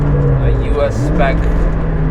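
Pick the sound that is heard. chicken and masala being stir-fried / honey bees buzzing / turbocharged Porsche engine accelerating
turbocharged Porsche engine accelerating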